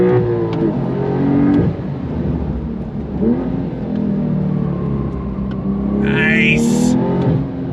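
A 2022 Porsche 911 GTS accelerates hard, its engine note climbing and falling through several revs over a constant rumbling road drone, loud and close from inside the car.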